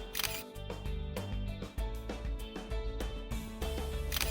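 A Canon 450 digital SLR camera fires several quick practice shots, its shutter and mirror clicking in a brief irregular series, close and fairly quiet.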